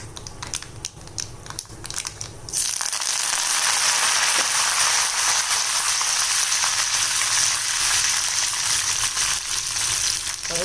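Curry leaves drop into hot oil already popping with mustard seeds and urad dal, giving a sudden loud burst of crackling sizzle that holds strong, after sparse earlier popping, for a yam fry tempering.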